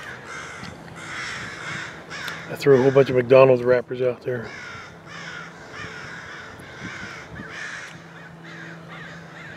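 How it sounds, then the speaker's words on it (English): A flock of crows circles about 100 feet overhead at a crow hunt, giving repeated harsh caws that rise to a loud cluster midway, while someone talks throughout. "And all these crows, they're about 100 feet above me."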